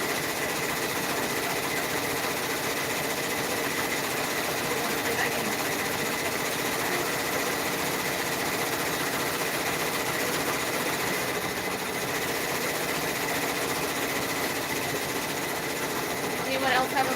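A home sewing machine runs steadily throughout while sewing a large order, a continuous mechanical whir with a faint rhythmic clatter, close and even in level, with brief talk over it.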